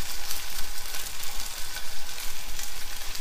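Cooking oil sizzling in a pan for fried rice, a steady bright crackling hiss with faint bubbling pops, close and unbroken with no talk.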